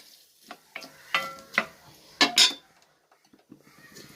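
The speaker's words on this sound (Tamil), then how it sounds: "தக்காளி வதங்கட்டும்." Tomatoes sautéing in a pan for anchovy (netholi) fish soup, heard as a series of sharp metallic clinks and scrapes from a utensil against the pan, spaced irregularly over a quiet background, with no talking.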